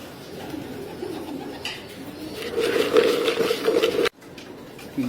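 Racing pigeons coo at feeding time in their loft, a soft warbling chorus of several birds that swells midway, with light pecking and patter underneath before a brief cutoff.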